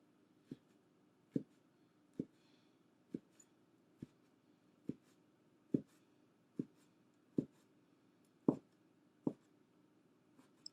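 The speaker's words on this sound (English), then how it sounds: "you just want to cut them into strips" A knife cuts ham rounds into strips on a cutting board, about a dozen soft, evenly spaced thuds of the blade striking the board, close and quiet.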